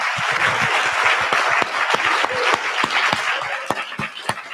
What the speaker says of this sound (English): So we could just give our panelists one more round of applause.